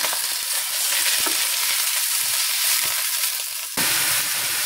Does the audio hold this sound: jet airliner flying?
no